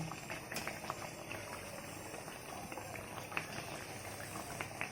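Jalebi made with ripe palm (tal) pulp frying in hot oil, a steady, dense bubbling sizzle close by, with no talk.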